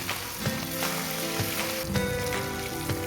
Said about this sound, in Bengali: এইভাবে উল্টে পাল্টে লাল লাল করে ভেজে নেব।